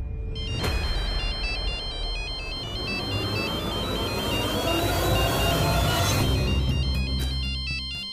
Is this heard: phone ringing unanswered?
yes